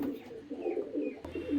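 A pair of Madras pigeons cooing close by, soft repeated low coos in a rolling rhythm with faint chirps above and a brief knock near the end.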